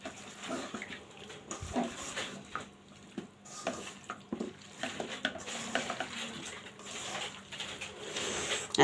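Beef curry cooks in a wok with onion, garlic and whole cumin in oil, giving steady close scraping and stirring clatter with a soft sizzle underneath and no talk.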